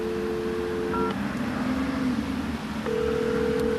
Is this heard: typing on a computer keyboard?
no